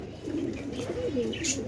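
Pigeons released from a home loft on a cloudy day coo softly in a low, steady murmur, with a brief brighter chirp near the end and a faint hint of wing flutter.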